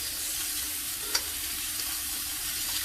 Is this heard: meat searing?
yes